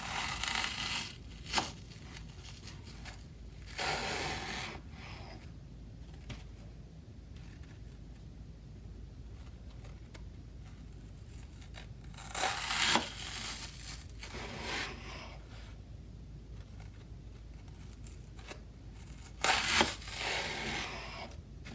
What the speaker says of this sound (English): This is a magic eraser sponge, and I'm gonna be cutting it up into cubes.